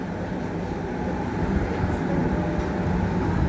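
Melbourne suburban train riding toward Hurstbridge, heard from inside the carriage as a steady low rumble and rolling wheel noise that swells slightly toward the end.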